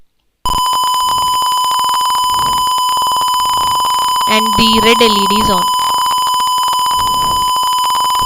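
A gas leakage sensor's buzzer sounds a steady, continuous electronic alarm tone loudly throughout, with someone talking briefly over it.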